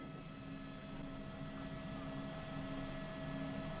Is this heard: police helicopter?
yes